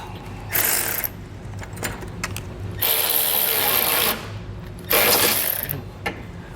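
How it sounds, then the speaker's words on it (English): A 3/4 wrench ratchets while tightening a nut on a base plate kit bracket, three bursts of rapid clicking of a second or more each, separated by short pauses with light metallic handling, close up. "you are gonna need a wrench, and that way you can put it on the back side while you tighten up"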